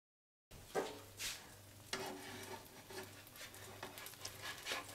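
A chicken quesadilla with a second tortilla laid on top fries in a pan until golden brown, with a soft, steady sizzle and occasional stirring or scraping noises, quiet and close.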